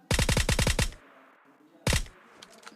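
Gunfire in the mobile battle royale game PUBG Lite: a sharp burst of about six rapid automatic shots, a pause, then a single close, loud shot, followed by faint distant cracks.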